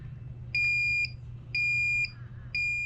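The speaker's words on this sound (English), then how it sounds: "there's only like 7 seconds left, and then the timer's going to go off" A brewing timer alarm beeps in three evenly spaced bursts, each lasting about half a second, loud and close against a low steady hum, during a New England pale ale homebrew.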